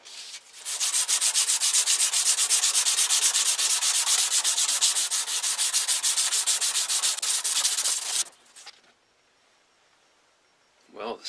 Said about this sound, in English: going to be sanding this handle now for a while